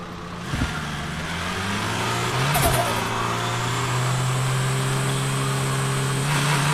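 A car engine in the driving game Drive Beyond Horizons starts up and revs, climbing to a steady droning hum with a brief rising whine, close and moderately loud.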